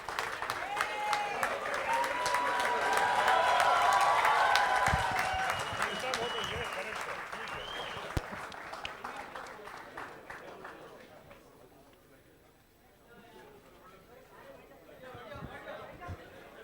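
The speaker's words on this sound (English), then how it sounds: "Please give a standing ovation for him." Sustained audience applause for a standing ovation at the 4th National Yash Chopra Memorial Awards, 2017, loud and dense with crowd chatter mixed in, swelling over the first seconds and then thinning out to scattered claps and murmuring.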